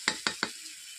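Potatoes and khamalu yam being sautéed in hot oil, with three sharp stirring scrapes at a steady rhythm over a soft continuous sizzle, close and alone.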